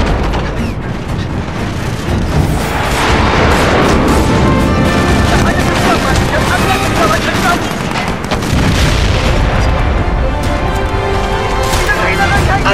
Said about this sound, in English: Airstrike inbound.